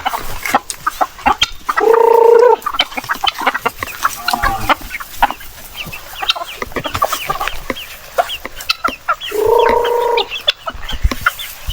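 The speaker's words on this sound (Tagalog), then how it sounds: "Para ito sa ating mga alagang manok." Pet chickens clucking and crowing on a small farm, with two loud, clear rooster-like calls standing out over a steady stream of nearby clucks and scratching sounds.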